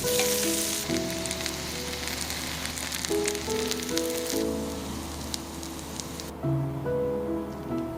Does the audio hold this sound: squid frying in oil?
yes